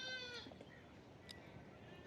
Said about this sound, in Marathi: मेंढरं बी हालून पुढं गेली